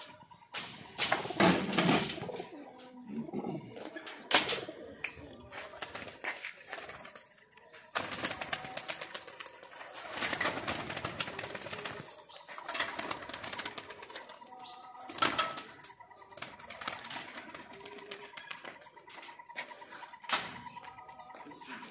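Tournament pigeons coo and flap their wings outdoors in intermittent bursts against steady background noise, with occasional human voices.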